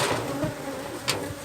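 Honey bees swarming around an opened beehive during a split, a thick steady buzz up close, with a brief knock partway through and no voices.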